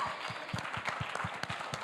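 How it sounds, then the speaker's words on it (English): A small gathered audience claps together in a steady, moderately loud burst of applause with distinct individual hand strikes, lasting about two seconds. "Give them another round of applause for me."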